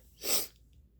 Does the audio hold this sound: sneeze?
yes